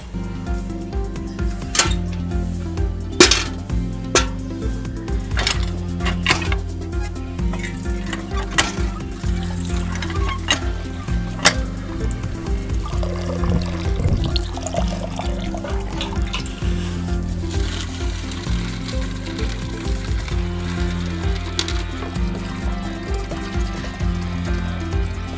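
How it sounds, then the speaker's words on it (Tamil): Water pours steadily into a home fish tank already lined with stones, a continuous close splashing and running-water sound lasting throughout, with occasional knocks and clinks and no speech. "இப்போ நம்ம ஃபிஷ் டேங்குக்கு தண்ணி ஊற்றிக்கலாம்."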